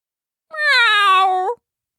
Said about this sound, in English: "Meow," the cat said